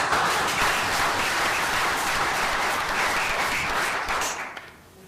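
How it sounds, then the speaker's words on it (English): A crowd at a city council meeting applauds steadily with dense, sustained clapping that fades out at the end. "We probably don't need the applause."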